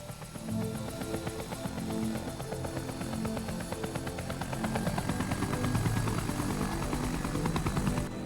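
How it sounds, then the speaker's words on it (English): Helicopter rotor blades in the PC version of Resident Evil 1 with an HD mod: a steady, loud chopping drone that continues through the whole stretch, mixed with dense game sound and no talk. "Look at the helicopter blades, you can see, dude."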